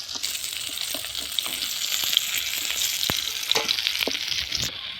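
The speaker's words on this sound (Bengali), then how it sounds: "এভাবে লাল করে আমি সব মাছগুলো ভেজে নেব" Steady crackling sizzle of fish frying in hot oil, continuous and close, with scattered sharp pops throughout.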